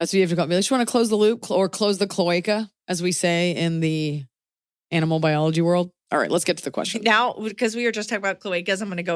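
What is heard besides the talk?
None of the usual background noises is heard.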